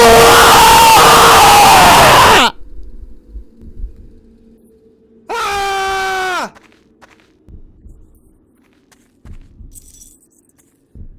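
Loud, harsh scream from a horror video game set in a prison: a distorted shriek lasting a couple of seconds, then a shorter falling wail after a pause, with faint low rumbles between.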